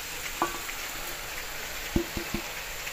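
Spinach goes into a pan of thickened gravy while palak paneer cooks, giving a soft continuous sizzle with a few sharp clacks and stirring knocks close by.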